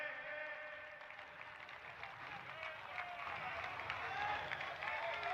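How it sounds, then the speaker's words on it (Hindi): A large crowd at BJP party headquarters in Delhi applauds to welcome party leaders, including Prime Minister Modi and Home Minister Amit Shah. Steady, dense clapping mixes with raised voices and cheering from the crowd throughout. "जोरदार तालियों से हम हमारे नेताओं का स्वागत करेंगे"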